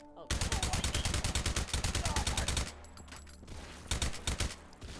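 Rapid automatic gunfire in the VR game H3VR, a fast steady burst of loud shots, then a pause and a few more scattered bursts.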